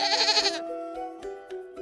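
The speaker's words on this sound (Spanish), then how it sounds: "las ovejas" A sheep gives one clear, loud bleat close by, followed by faint soft taps over a steady background tone.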